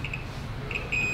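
Digital multimeter on continuity test, emitting short high electronic beeps: a brief tone at the start, another near the middle and a longer one at the end, fairly quiet over low background hum.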